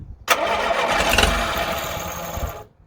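A small engine with the choke on coughs into life and keeps running roughly, loud and close, for a couple of seconds before cutting out.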